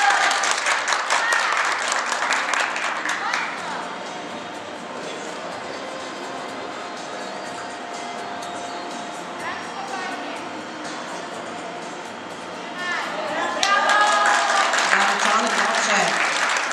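Loud, dense audience applause at a children's gymnastics show in Olsztyn. The clapping eases into a softer, steady patter through the middle, then rises again near the end, with crowd noise underneath.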